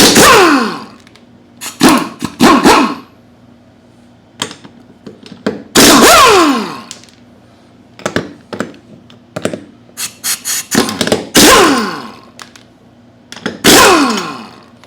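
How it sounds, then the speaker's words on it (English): A 1/2-inch impact gun with a 21mm socket spinning off the wheel lug nuts of a zero-turn mower, heard as loud, close bursts of whirring and rattling hammering, separated by short quiet pauses. "we're going to use a 21mm socket on a 1/2-inch impact gun to take off the wheel lugs"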